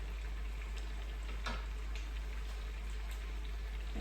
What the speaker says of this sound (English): The sizzling sound is so soothing.